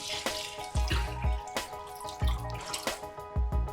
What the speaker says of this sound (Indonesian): Rendam dengan sekitar 2 liter air bersih.